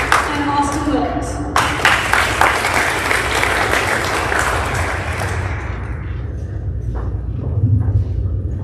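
An audience at a 2021 awards night breaks into loud, sustained applause after a list of names is read. A voice is briefly heard first, then the clapping swells and fades out over several seconds.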